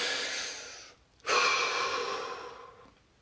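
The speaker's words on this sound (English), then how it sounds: "Deep breath." During a relaxation exercise, one deep breath is heard close up: a long airy inhale, a brief pause, then a slow sighing exhale that fades out.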